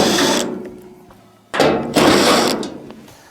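Power driver whirring as it backs quarter-inch screws out of a clothes dryer's rear panel, two close, loud bursts of motor whine separated by a pause, with a brief metallic rattle between them.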